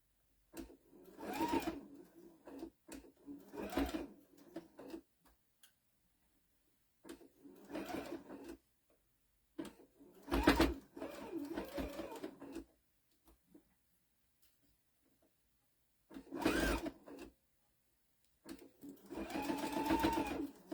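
A sewing machine stitches fabric for a pin cushion in several short, quiet bursts of rapid whirring, separated by pauses.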